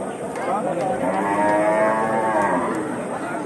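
A cow moos once in a long, drawn-out call over the steady murmur of a busy outdoor cattle market in Manikganj district, Bangladesh.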